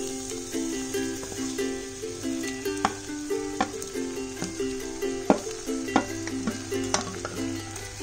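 Poha with corn, fried potatoes and peanuts is stirred and mixed in a pan. A spoon scrapes and clinks in a steady rhythm over a low sizzle, close and unaccompanied by speech.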